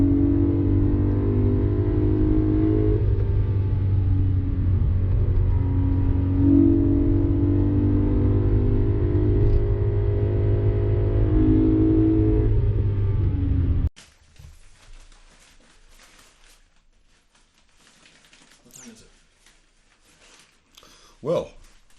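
A 2011 BMW E90 M3's engine drones deep and steady with strong low rumble for several seconds while driving, then cuts off, leaving quiet rustling and faint noises.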